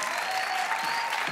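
A studio audience at a game show applauds in a short, dense burst of clapping, steady and fairly loud, with no speech over it.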